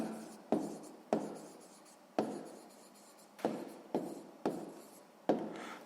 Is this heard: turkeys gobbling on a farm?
no